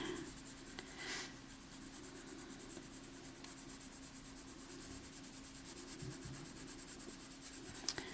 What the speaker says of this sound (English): I'm laying my pencil down and getting more of a broad stroke, not so much of the point